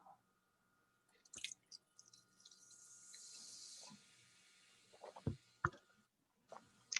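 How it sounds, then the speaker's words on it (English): Seltzer water poured into a mezcal and pomegranate cocktail gives a soft, steady fizzing hiss for a couple of seconds, with scattered drips and light clinks before and after, close and fairly quiet. "I'm going to add a tiny amount of seltzer water just to give that some fizz on top"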